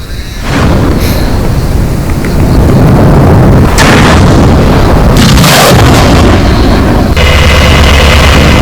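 Russian BM-27 multiple rocket launcher firing rockets at a command post in Zaporozhye, Ukraine: loud, continuous roaring blasts with sharp bursts and whooshing launches, dense rumbling throughout.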